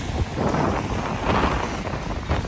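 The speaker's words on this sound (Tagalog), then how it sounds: "ang lakas ng hangin, saka ang lamig" A steady rush of strong, cold wind on a rainy night in Riyadh blows against the microphone, a dense noisy roar with slight swells.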